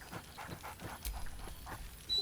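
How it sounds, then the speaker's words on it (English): Scratch, the dog in Baldur's Gate 3, giving a few short, soft barks and yips in quick succession, fairly quiet and close, with no talking. "Scratch barks merrily in something like agreement."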